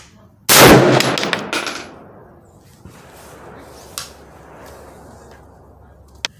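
A Smith & Wesson M&P15 rifle fires at a 25-yard range, one loud sharp shot followed by a quick cluster of ringing reports, then a quieter outdoor lull with a few faint distant pops.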